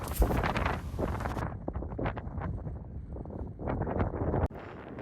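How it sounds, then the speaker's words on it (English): Wind gusts across a coastal walk on Holy Island, Lindisfarne, in Northumberland, buffeting the microphone in uneven rumbling bursts that rise and fall, close and fairly loud. "It's very windy though."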